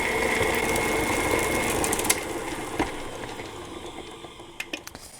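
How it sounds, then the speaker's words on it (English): Stand mixer creaming butter and sugar for cookie dough, a steady close motor whir with beater rumble that fades toward the end into a few clicks and knocks. "I do recommend creaming your butter and your sugar and stuff together first before you add anything else in."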